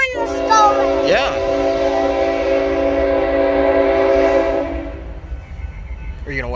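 A Norfolk Southern freight train passes close by with a heritage unit running as the rear distributed power locomotive, its horn sounding as a loud sustained multi-tone chord over rumbling cars, then fading as voices briefly talk near the end.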